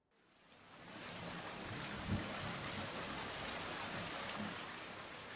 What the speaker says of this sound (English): It's raining right now outside my window.